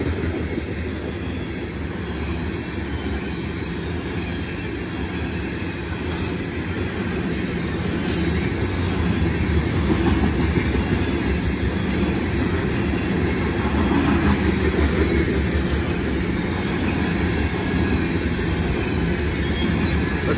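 A southbound BNSF loaded coal train with three distributed power units rolls past close by, a steady heavy rumble with continuous wheel clatter and occasional faint squeals.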